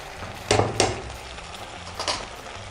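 Chicken with ginger garlic paste, turmeric, salt and onions fries in a pan, making a soft sizzle broken by a few sharp scraping stirs, close by and with no talking.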